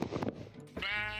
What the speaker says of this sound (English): I'm going to entice some sheep into this one